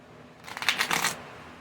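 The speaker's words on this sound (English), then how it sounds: "Shuffle this deck a few times." A deck of cards riffled in one quick shuffle, a short crisp fluttering burst close by in a quiet room.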